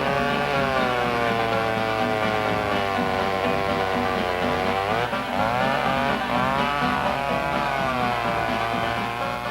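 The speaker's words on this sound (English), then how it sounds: "These new chainsaws have plenty of power per pound." A modern chainsaw running under power, a loud, sustained buzzing engine note that rises and wavers in pitch as it works.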